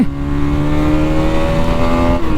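Bajaj NS200 BS7 E20 motorcycle accelerating through the gears, a loud close engine drone whose pitch climbs steadily, then dips briefly at a gear change near the end.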